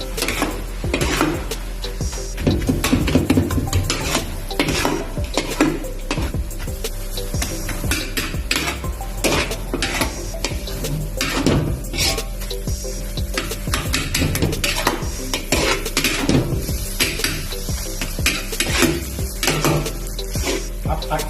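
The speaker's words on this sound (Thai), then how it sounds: "เราผัดให้เข้ากันอีกทีนะครับ" Pad thai being stir-fried in a pan makes a dense, continuous sizzle with rapid clattering scrapes of a utensil against the metal, loud and close throughout.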